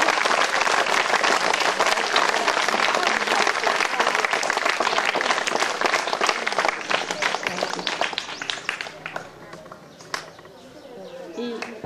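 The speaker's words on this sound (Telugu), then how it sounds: "మళ్ళీ ఒకసారి గట్టిగా క్లాప్స్ కొట్టండి అందరూ" A school audience claps loudly and steadily at a meditation camp in a hall, the dense applause fading toward the end as a few scattered claps and voices remain.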